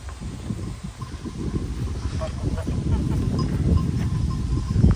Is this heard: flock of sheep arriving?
yes